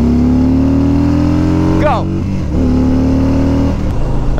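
A motorcycle accelerating hard from a standstill in a 0 to 60 run: a loud, close engine note climbs steadily, drops at two quick gear shifts and climbs again, after a voice shouts at the start.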